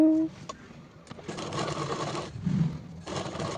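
A sewing machine stitches a blouse in short running bursts separated by brief pauses, steady whirring and close by.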